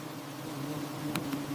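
A swarm of honey bees drones close by in the forest, a faint steady buzz with one brief louder flick.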